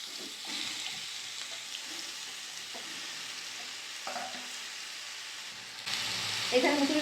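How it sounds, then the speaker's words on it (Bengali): Chopped bottle gourd and potato fry in hot mustard oil in a kadai, giving a steady soft sizzle that swells into a louder, crackling burst of stirring near the end. "তেল গরম হয়ে গেছে, এখানে লাউ আলুটা কেটে রেখে দিয়েছিলাম দিয়ে দেবো"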